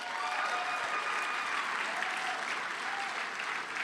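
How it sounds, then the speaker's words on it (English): A crowd at a fundraising gala applauds: a dense, even wash of many hands clapping at once that holds steady throughout, with faint voices mixed into the crowd noise. "Let's give them one more big round of applause."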